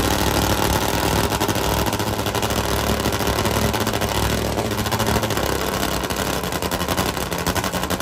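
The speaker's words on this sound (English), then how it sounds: "These Top Fuel motorcycles are going to race into the blinding sun." A loud, steady Top Fuel drag racing motorcycle engine roar runs throughout with no pause, dense and rumbling, heard up close.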